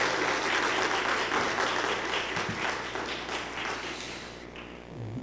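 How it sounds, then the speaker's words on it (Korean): A church congregation applauds to welcome a pastor at a teachers' dedication worship service, with steady dense clapping that fades out near the end. "나오실 때 박수로 환영해 주시기 바랍니다"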